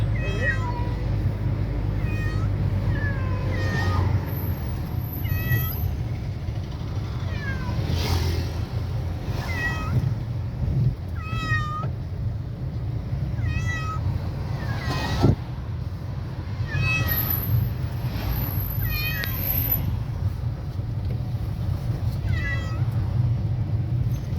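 Several cats meow repeatedly throughout from inside a cage in a car, plaintive and fairly close, over a steady low rumble of the running vehicle.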